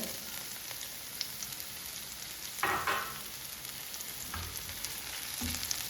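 Chopped green chillies sauté in a pan for an egg chilli dry fry, making a low, even sizzle with scattered crackles and a couple of brief louder stirring scrapes.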